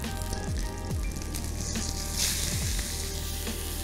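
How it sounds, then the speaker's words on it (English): Thick halibut cutlets fry over medium heat in a pan, giving a steady close sizzle with soft crackle throughout, with no one talking. "You want to drop your heat down to about medium and let the fish cook about 2/3 of the way through"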